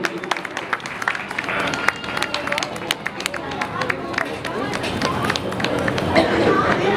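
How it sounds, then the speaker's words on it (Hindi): A crowd at a Siddhachakra Mahamandal Vidhan religious gathering in Rae Bareli claps and applauds steadily throughout, a dense wash of hand claps mixed with murmuring voices. "जोरदार तालियां आप सभी के लिए"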